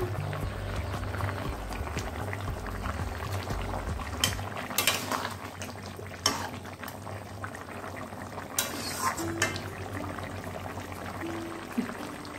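Silver carp fish simmering with pumpkin greens in a pan, a soft steady bubbling with occasional utensil clinks and small scraping knocks, fairly quiet and without talk.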